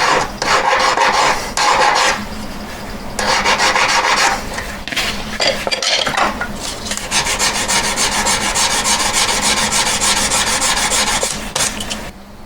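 The back of a pear-shaped jewelry ring is being buffed, a close, harsh rasping and rubbing in repeated strokes with brief pauses between bursts, no voices.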